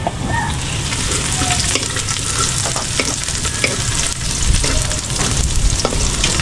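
Chopped garlic sizzles loudly and steadily in a hot pan as it is stirred, a dense continuous frying hiss with scattered scraping throughout and no voices.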